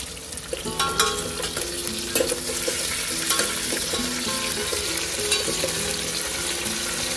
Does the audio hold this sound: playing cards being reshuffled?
no